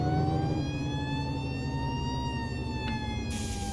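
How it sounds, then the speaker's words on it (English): An emergency vehicle siren in the video game Flashing Lights wails as a steady, loud electronic tone that holds without ramping down, with a brief burst of noise near the end. "Worst part about this siren,"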